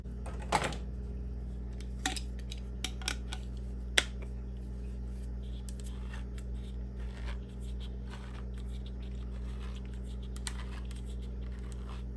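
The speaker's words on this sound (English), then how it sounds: "I'm gonna go ahead and open this tomato sauce can." A tomato sauce can is opened in a kitchen while cooking spaghetti, with a few sharp metallic clicks and taps, one louder snap, over a steady low hum.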